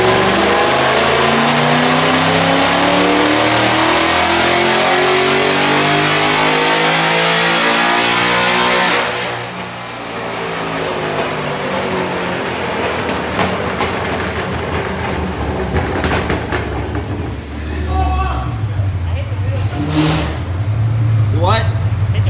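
A Whipple-supercharged Ford GT roars through a dyno pass in 7th gear, loud and close, with a long rising engine wail for about nine seconds before it cuts back to a lower rumble and whine with scattered clatter; voices talk beneath it.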